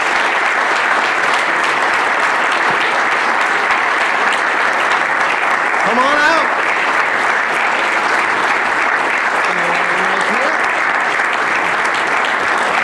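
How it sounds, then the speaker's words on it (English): Sustained applause from a large audience, dense and steady throughout, with a couple of brief voices and whoops rising above it. "Let's give them a nice round of applause."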